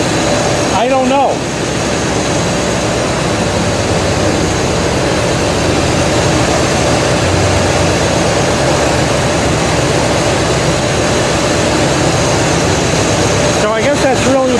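A Buick car engine idling steadily, a loud, continuous droning roar with a dense low rumble and a constant whirring hiss, close up and unbroken for the whole stretch.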